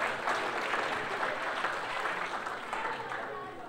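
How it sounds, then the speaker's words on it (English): An audience at a chocolate-tasting event claps steadily as a dense, even round of applause that holds for several seconds and slowly tapers, with no talking heard over it. "A round of applause for the little guy"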